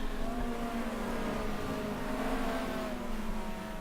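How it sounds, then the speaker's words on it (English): GT3 race cars circling Suzuka in a racing video game, a steady engine drone of several cars running in a close line, with pitch rising and falling and no break in the sound. "And this is a very nice train of cars here."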